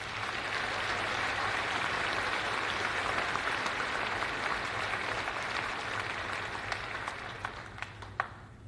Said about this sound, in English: Please join me in giving these valued educators a round of applause